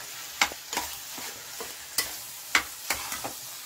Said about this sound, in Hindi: ये आप पूरा मैश कर रहे हो